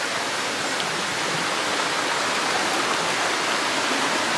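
Water from a nearby waterfall rushes in a dense, steady roar that stays constant and fairly loud throughout, with no voices over it.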